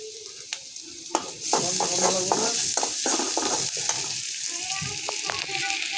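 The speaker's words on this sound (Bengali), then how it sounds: "এই যে ভাজি হচ্ছে মাছগুলো বাড়াতেছি" Continuous sizzling of Tangra fish frying in a pan, with occasional scraping and clinks of a utensil stirring.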